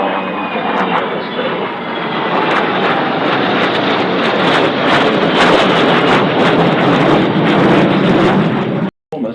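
A C-17 Globemaster transport aircraft flies past at the Avalon International Air Show in Australia, its engines a loud, steady roar that fills the whole stretch without any talk.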